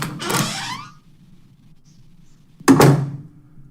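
Radio drama sound effect of a door opening after a wedding ceremony: a creak-and-thunk burst at the start, a second of near silence, then another short clattering thump near the end.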